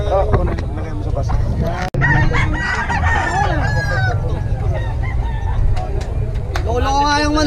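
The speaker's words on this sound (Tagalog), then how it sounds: "Lolo ko nga yung manok na yan eh." A rooster crows loudly and close, several drawn-out calls over a noisy background with other fowl clucking and a brief honk.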